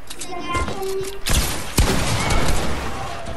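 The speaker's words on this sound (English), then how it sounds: "Oh, Robbie, why did you shoot that?" Gunshots ring out in a video game as two sharp cracks amid a busy, noisy mix of game sounds and background clatter.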